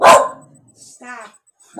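A dog lets out a single sharp, loud bark right up close, then a person speaks a short word after a brief pause.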